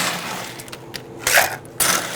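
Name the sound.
ice being added to a cocktail shaker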